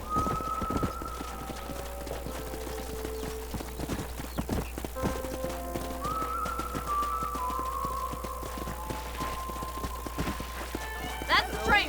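Galloping horse hooves from the Western game Red Dead Redemption, a steady rapid clip-clop running throughout under game dialogue, ambient music and occasional whinnies.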